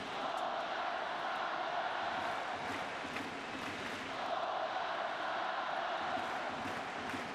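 Packed crowd at a Japan versus South Korea baseball game in the Tokyo Dome, a continuous distant roar of murmuring fans filling the stadium without a clear cheer.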